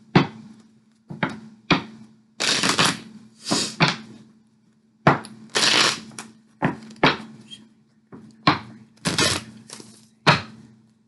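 Tarot cards shuffled by hand in a series of quick, close riffles and soft slaps, several bursts separated by short pauses, with no talking.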